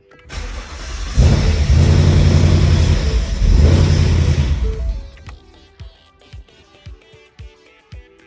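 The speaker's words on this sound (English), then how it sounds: "Let's see if we can turn over the car." An S550 Ford Mustang engine cranks and turns over loudly for several seconds, then stops, followed by a series of quieter ticking and clicking sounds.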